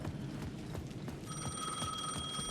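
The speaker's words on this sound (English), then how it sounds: "The payphone at the edge of the plaza was ringing again." A payphone rings in the video game Alan Wake II, its tonal ring starting partway through and continuing steadily at moderate volume over low ambient noise.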